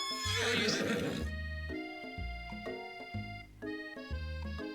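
A horse whinnies loudly in the Colonel Sanders dating sim, a shrill rising neigh followed by a rhythmic, bright melodic game music cue.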